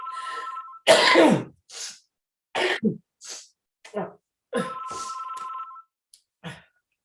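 A telephone rings in a home scene, two short electronic ring bursts separated by pauses, mixed with coughing, throat clearing and other brief vocal sounds.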